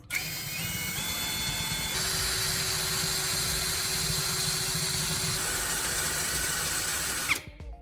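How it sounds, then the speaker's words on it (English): A drill press bores holes through metal hinges with a steady, loud motor whine and a high grinding tone that shifts pitch partway through, ending with a brief clatter as it winds down. "Using a drill press, you carefully drill holes in the hinges so they line up with the mounting holes on the drill head."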